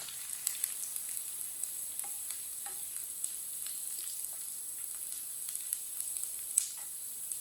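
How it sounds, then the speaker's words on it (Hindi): Onions frying to light brown for an aloo baingan sabzi, a steady close sizzle with scattered crackles and pops, and a few light scrapes of stirring throughout. "प्याज को हल्का सा ब्राउन कर लेंगे।"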